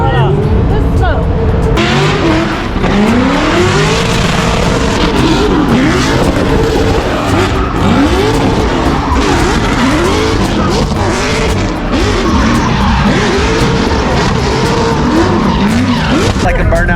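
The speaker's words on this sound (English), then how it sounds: "I can hear rev limiter and tire smoke" A car engine screams at high revs, bouncing off the limiter while tires squeal and skid continuously, loud and close with crowd noise around it.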